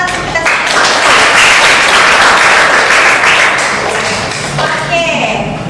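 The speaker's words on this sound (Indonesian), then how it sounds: "Berikan tepuk tangan untuk kita." A group at an Indonesian university teaching session applauds with a loud, dense burst of clapping that swells and then fades out. Voices come in and talk over the tail end.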